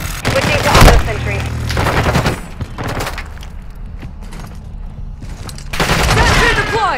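Automated sentry gun firing during a Call of Duty: Modern Warfare 2 match, loud sustained bursts of rapid automatic gunfire with brief lulls, under radio-style team voices.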